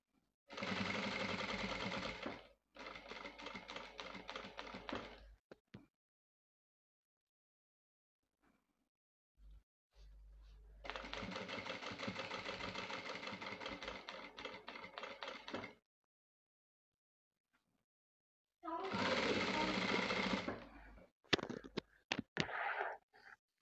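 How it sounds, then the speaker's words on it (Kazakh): A sewing machine stitches around the waistband of sweatpants in three loud, steady bursts of rapid mechanical chatter, separated by quiet pauses and a few faint handling clicks. "Міне 2 қатарды да айналдырып тігіп алдық."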